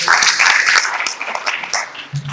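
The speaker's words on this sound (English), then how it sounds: "Let's give her a round of applause." Audience applause at a corporate system launch event, dense and close clapping that thins slightly toward the end before a voice cuts in.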